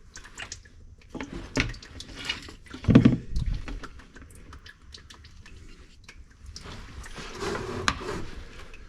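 Transfer case fluid drains from a 2008-10 Ford Super Duty, giving faint, irregular trickling and dripping with brief louder splashes, quiet and close.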